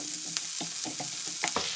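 Onions and peppers stir-frying in a hot pan for vegetable chow mein, a steady sizzle broken by several close scraping stirs in quick succession.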